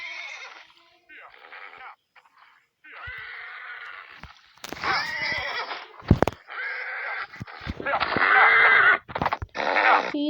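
A stubborn, balking horse at a farm fence under repair whinnies again and again in loud, close, shrill bursts separated by short pauses.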